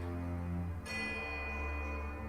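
A crowd of bells ringing together in the fantasy game Pillars of Eternity II: Deadfire. A low droning bed gives way to a bright, sustained shimmer of overlapping chimes that swells in partway through and keeps ringing.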